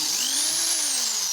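A screwdriver bit, notched with an angle grinder, turns a special bolt out of a Scarlett bread maker, giving a steady, close, high-pitched mechanical whine with no talking.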